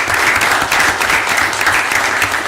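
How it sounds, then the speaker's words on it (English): Steady, dense applause from an audience at a board of directors meeting, a continuous even wash of many hands clapping together, loud and close throughout with no talking over it. "Y'all can give them a round of applause."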